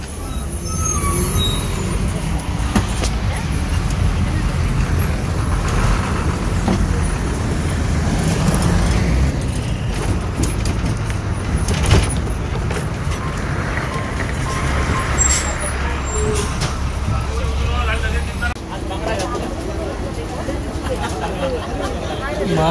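An MSRTC Lal Pari state transport bus rumbles with a steady engine drone amid road traffic noise, with people talking over the constant din.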